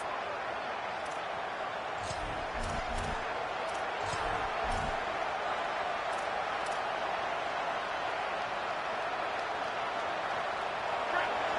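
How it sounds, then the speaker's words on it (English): Dense, roaring crowd noise fills a football stadium as the home fans greet the visiting team, a steady wash of cheering with a few sharp claps and thumps near the start. "This crowd bringing an ear-splitting welcome to their visitors."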